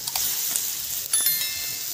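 Chicken pieces frying for kaul chicken fry in a pan, a steady hissing sizzle throughout, with a faint metallic tap partway through.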